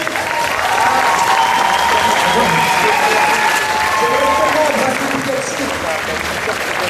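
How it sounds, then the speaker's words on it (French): A convention audience applauds a cosplay group in a steady, dense wash of clapping and crowd noise that holds for several seconds before tapering off slightly, with a voice briefly audible above it. "On les applaudit encore."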